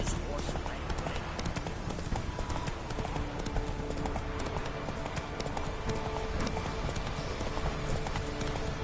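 Hooves clop in a quick, continuous rhythm as a horse moves through The Witcher 3: Wild Hunt on PS4, mixed with dense game ambience and voices talking throughout.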